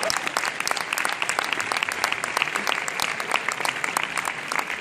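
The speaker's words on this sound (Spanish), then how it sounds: "Un aplauso para ellas" A classroom group applauds two girls, dense fast clapping from many hands that stays loud and even across the whole stretch, with a few sharper claps popping out near the front.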